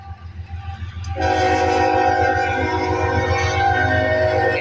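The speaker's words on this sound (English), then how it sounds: "61E is a empty sand train" A Norfolk Southern 61E empty sand train, led by a GE locomotive with BNSF units, rumbles close by as its horn blasts in, loud and sustained, over heavy engine drone.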